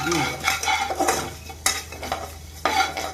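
Sesame seeds tossed in with already-roasted coriander and cumin seeds in a pan for a tamarind-leaf chutney, giving close, steady scraping and clinking of a spoon against the pan over a faint sizzle, with no talking.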